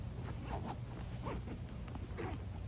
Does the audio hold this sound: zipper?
yes